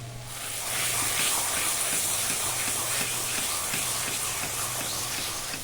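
Taro stems cooked in a pan with grated coconut and a little sugar, giving a steady hissing sizzle with faint stirring taps, fairly loud and constant.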